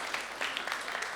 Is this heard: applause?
yes